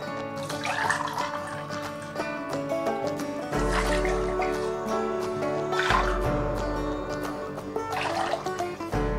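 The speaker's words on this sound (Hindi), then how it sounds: "इससे तीन मग पानी दूंगी" Water is poured from a mug into a pan to make sugar syrup, giving a few separate trickling pours close by with quiet kitchen clatter in between.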